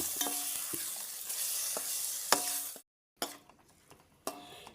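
Prawns and onions frying in a pan for a Goan kurma, a close crackling sizzle with spoon clinks and stirring scrapes, briefly cut off midway then resuming more quietly; no talk.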